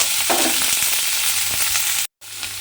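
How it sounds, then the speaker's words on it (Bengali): Small pieces of pointed gourd fry in hot mustard oil with a loud, close, continuous crackling sizzle that cuts out abruptly for a moment before resuming. "সেই পটলগুলো আমি এই তেলের মধ্যে দিয়ে দেব।"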